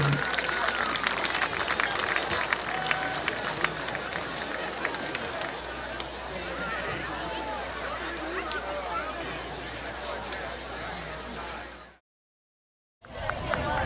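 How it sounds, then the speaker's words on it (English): Crowd at a high school football game applauds an athletic hall of fame class, a dense, continuous roar of clapping and crowd noise that holds steady for about twelve seconds before cutting out abruptly, then resuming briefly. "How about a nice round of applause for your Athletic Hall of Fame class of"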